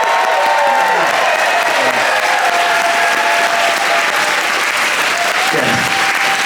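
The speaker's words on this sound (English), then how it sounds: "Soak up the applause" A concert audience aboard the cruise ship New Amsterdam applauds the ship's serving staff, with loud, sustained, dense clapping from a large crowd, plus a few faint cheers and whistles mixed in.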